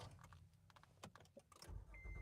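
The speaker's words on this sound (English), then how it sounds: "And the car starts." A car engine starts close by, heard faintly: a short cranking clatter, then a low engine hum that settles in steadily, after some soft rustling and jangling like keys.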